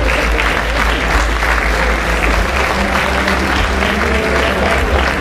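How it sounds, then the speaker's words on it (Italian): Audience applause at an evening event with an Italian senator present, steady loud clapping throughout, dense and sustained from start to finish. "ancora più forte l'applauso"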